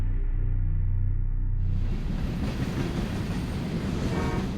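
Train journey scene from the film The Equalizer 2, a low humming rumble that opens into a dense, steady rattle and clatter of rail carriages, continuous and fairly loud with no talking.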